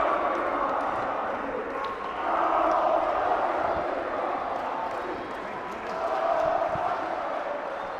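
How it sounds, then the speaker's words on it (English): An indoor basketball crowd at the Al Wilayah 2022 tournament shouts and roars in waves, swelling loud twice over a constant murmur. "I'm sure you can hear the crowd shouting"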